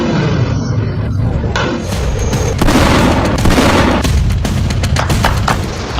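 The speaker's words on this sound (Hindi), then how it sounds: "मैं आपको दिखाने वाला हूं अफगानिस्तान ने जो मिसाइल टेस्ट किया है।" Afghan missile test launch: a loud, continuous roaring blast with crackling bursts and rumble, sustained at full strength throughout without any talk.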